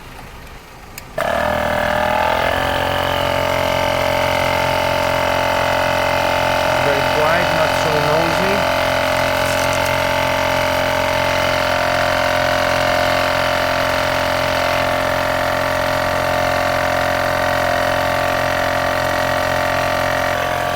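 A small Ultimate Speed UMK 10 C2 portable tyre air compressor inflating a car tyre starts abruptly with a thump, then runs with a steady buzzing, droning hum for the rest of the clip.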